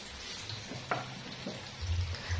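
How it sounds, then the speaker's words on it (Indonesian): Battered tempeh frying in a pan in a home kitchen, a steady soft sizzle with faint crackles and a low hum, close and moderately quiet, with no talking. "Ini aku goreng tempe ditepungin."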